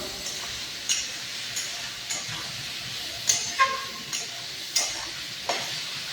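Ginger-garlic paste frying in a pan for chicken curry: a steady sizzle with repeated sharp scraping clicks of a spatula stirring, close and clear, with no talking.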